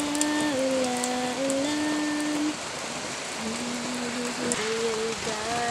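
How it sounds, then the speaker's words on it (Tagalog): Light, sparse rain patters on vegetable plants in a Cavite garden, a steady close wash of drops with a low voice sounding intermittently over it. "Ayan, kunti lang din yung ulan."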